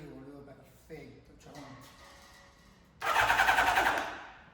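Kawasaki GPX 600 R motorcycle engine cranked by its starter motor on a fresh battery, a loud, steady whirring burst that starts abruptly after a few seconds of quieter background talk and mechanical noise.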